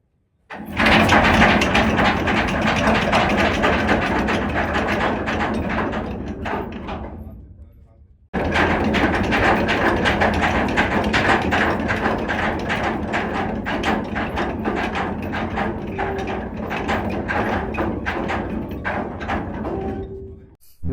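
Ship's anchor windlass paying out anchor chain, a loud continuous rattling clatter that runs for several seconds, breaks off briefly, then resumes steadily before stopping.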